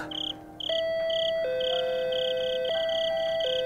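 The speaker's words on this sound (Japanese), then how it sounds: "僕はインターホンのボタンを押した。" An intercom doorbell chime in a visual novel video game rings clear and steady, repeating a bright two-tone melody over several seconds with no voices.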